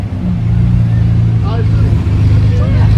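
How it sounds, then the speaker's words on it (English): Classic MGC with its six-cylinder engine at a transport festival and road run, a steady deep engine drone close by, with faint voices in the background. "That MGC really does sound very nice."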